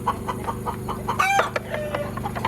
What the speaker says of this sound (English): Why is the chicken telling on us?